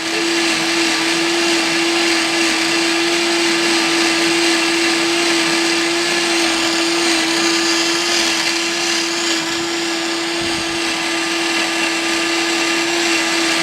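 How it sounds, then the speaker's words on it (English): A kitchen blender runs continuously at steady high speed, mixing pumpkin bread batter during a dairy-free baking class. It gives a loud, even motor whine with no pauses and no talking. "I'm blending it this long just to make sure it's fully incorporated and getting thick enough."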